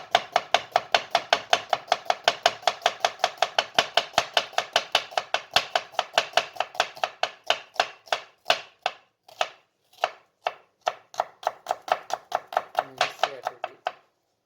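An onion is chopped quickly with a knife on a board, crisp rapid rhythmic taps about three per second, slowing to sparser irregular cuts in the second half, close and alone without talk.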